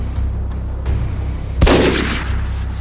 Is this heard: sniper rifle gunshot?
yes